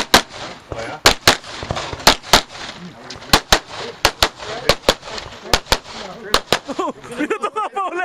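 Rapid, loud pistol shots ring out one after another in an uneven string at a USPSA practical shooting match, with a few brief gaps between bursts and a voice heard near the end.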